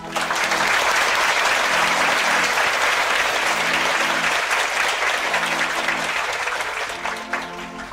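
A seated audience claps after a talk, producing a loud, dense burst of applause that holds steady and then begins to thin toward the end, with faint voices mixed in.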